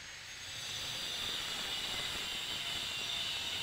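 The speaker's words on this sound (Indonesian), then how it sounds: "Kita memotongnya menggunakan mesin gerinda ya." An angle grinder fitted with a ceramic cutting disc slices through 8 mm GRC board, giving a steady, hissing high whine that swells in the first half second and then holds level and close.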